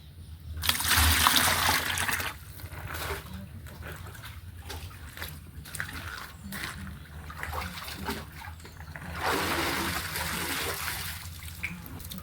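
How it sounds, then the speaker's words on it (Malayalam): Water poured from a bucket into a well during chlorination cleaning, a steady splashing trickle that swells at the start and again near the end, with no talk. "ഇനി നമുക്കിതിൽ അര ബക്കറ്റ് വെള്ളം ഒഴിക്കണം"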